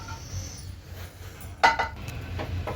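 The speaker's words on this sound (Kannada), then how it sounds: "ಕುಕ್ಕರ್ ಮುಚ್ಚಳ ಓಪನ್ ಮಾಡ್ತಾಯಿದ್ದೀನಿ." Pressure cooker lid lifted off after cooking bisi bele bath, giving a few close metallic clinks and clatters in quick succession over a low steady kitchen hum.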